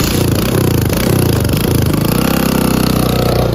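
Motorcycle engine running steadily with a loud, close, chugging rumble and rattling clatter, continuous with no talk.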